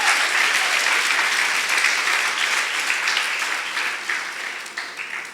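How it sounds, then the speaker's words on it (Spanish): Loud, sustained applause from a church congregation, a thick roar of many hands clapping at close range that stays strong throughout and eases slightly toward the end. "Dele un aplauso fuerte al Señor."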